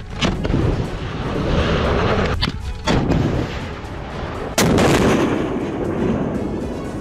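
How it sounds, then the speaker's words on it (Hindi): Indian Army troops test-firing anti-tank guided missiles during a high-altitude exercise: several loud, sharp blasts, the heaviest near the end, each followed by a rushing roar that trails off outdoors, with no talking. "सेना की त्रिशक्ति कोर ने इतनी ऊंचाई से एंटी टैंक गाइडेड मिसाइल यानी ATGM दागने का अभ्यास किया।"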